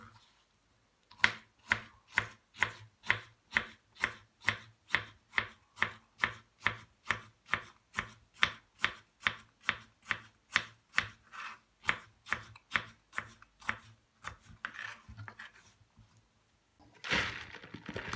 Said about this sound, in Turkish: Salatalığı da küçük küçük doğrayalım.